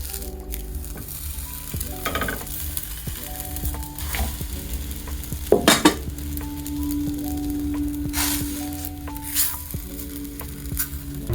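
Flatbread chapatis cooking on a hot pan give a soft steady sizzle with occasional louder crackles and clinks, while faint background music plays underneath.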